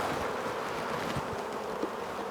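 Honeybees buzzing steadily and close during a 14x12 hive inspection, a continuous dense hum of many insects with no voices.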